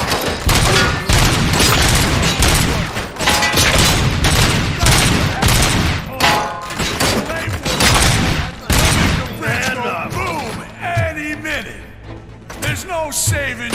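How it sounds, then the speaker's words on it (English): Gunfire in the video game RoboCop: Rogue City, dense rapid bursts of shots and booms, loud and continuous for most of the stretch, then thinning out as voices and game sounds take over. "Am I hearing gunshots?"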